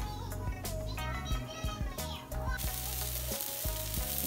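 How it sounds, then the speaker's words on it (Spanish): Pupusas frying on a griddle crackle and sizzle quietly, broken by sharp taps and clinks of a spatula or utensil, and a soft hiss lingers as they cook. "Ya aquí ya le di vuelta a mis pupusas y aquí ya casi listas para comer."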